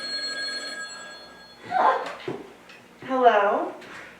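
A telephone rings with a bright electronic trill in a home, then fades as people speak nearby with vocal sounds over the room.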